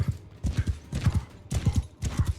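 Horses galloping in the medieval combat game Mount and Blade 2 Bannerlord, rapid rhythmic hoofbeats in repeating triple clusters, loud and close with no talking.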